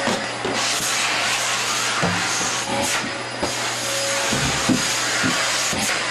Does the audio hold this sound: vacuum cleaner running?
yes